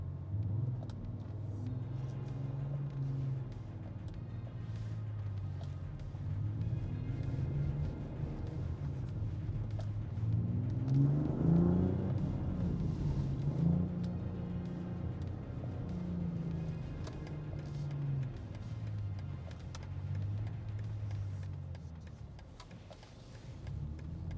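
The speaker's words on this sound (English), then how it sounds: "All this crackles coming out of the exhaust and pops and bangs." A BMW X3 M50's engine and exhaust drone steadily and loudly for the whole stretch, swelling and easing in pitch with faint crackles and pops scattered through the rumble, with no talking.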